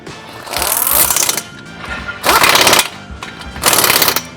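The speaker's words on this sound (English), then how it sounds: "come up here with a 15mm socket, and we're going to tighten the factory clamps at this time" A power tool with a 15mm socket tightens the factory exhaust clamps on a 2018-2023 Mustang GT during an exhaust install, giving three loud, close, rattling bursts separated by short pauses.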